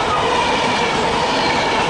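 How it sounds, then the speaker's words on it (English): A Virgin Pendolino passenger train roars past at a Manchester station, a loud continuous rumble of wheels and rails with steady, even intensity throughout. "Oh, here's a Pendolino."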